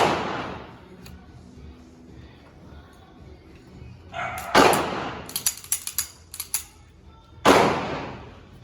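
Sharp gunshots crack out at a firing range, one loud report near 4.5 seconds, then a quick cluster of smaller pops and another loud shot near 7.5 seconds, each with a short ringing tail over a quiet background.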